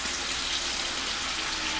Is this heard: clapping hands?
no